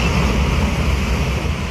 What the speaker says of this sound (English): The tsunami rushes in, destroying the bungalow.